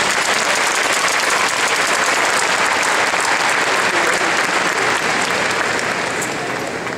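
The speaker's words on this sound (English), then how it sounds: "I ask that we all offer a round of applause to the trustees for their service to the college." A large commencement crowd at a community college ceremony gives the trustees a dense, loud round of applause, continuous clapping sustained for about seven seconds and tapering slightly at the end.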